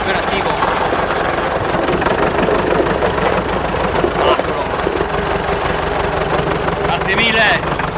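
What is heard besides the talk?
vintage tractor engine idling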